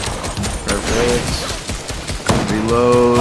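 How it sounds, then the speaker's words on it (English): Rapid bursts of gunfire in Fortnite, a loud, dense volley of automatic shots that carries on throughout, with people talking over it. "Got more gunfire getting in, Joe."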